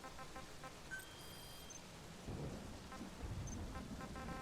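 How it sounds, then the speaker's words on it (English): Rain patters continuously in Metal Gear Solid V while low thunder rumbles in deep swells midway and near the end, with a few faint electronic tones above. "We're playing in the rain."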